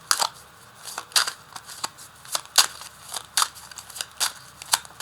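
A deck of tarot cards is cut and handled in a series of sharp, crisp papery snaps and flicks, close and fairly quiet, coming in an irregular rhythm with no talking.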